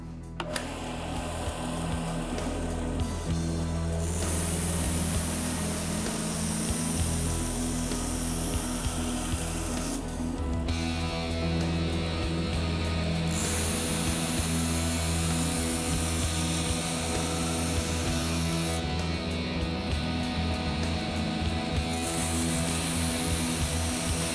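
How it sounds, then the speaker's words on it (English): A belt sharpener grinds a knife blade with a continuous, loud motor whine and abrasive rasp that holds steady throughout, with the tone shifting slightly every few seconds as the blade moves along the belt. "keep the belt moving straight away from the particular point of the blade that you're sharpening"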